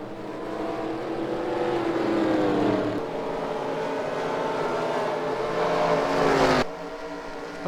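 Race cars circle a dirt track in a racing video game, several engines droning together in a loud steady roar with rising and falling pitch, cutting off abruptly near the end.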